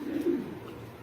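Racing pigeons coo inside a pigeon loft on a sunny afternoon, a couple of soft, low throaty coos near the start, then quieter murmuring against a faint background.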